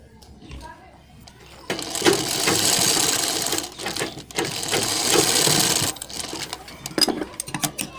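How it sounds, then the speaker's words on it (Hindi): A sewing machine runs for a few seconds as it stitches the curved neckline of a collar, a loud steady mechanical whir that starts and stops, with a voice speaking around it. "इसी तरह आपको इस गोलाई पे सिलाई लगाना है"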